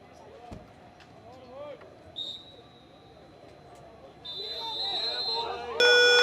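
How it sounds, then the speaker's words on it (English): Arena crowd noise rises at the end of a Tennessee vs. Florida State game, then a loud electronic game-ending buzzer blares and holds through the final second. "We'll hear this buzzer momentarily."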